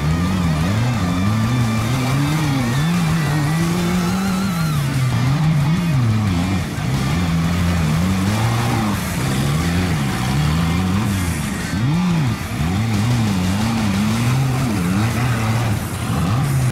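A Willys Jeep engine revving hard on a muddy off-road trail during a jeep club event, a loud continuous roar with rising and falling revs as it struggles, close and steady throughout.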